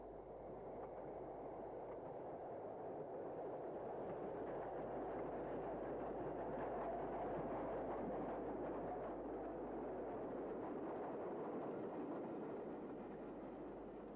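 Double-headed steam train with Mogul locomotive number 31639 working over the Alps: a steady, continuous rumble and roar of the engines and rolling stock, holding at even loudness throughout with no speech.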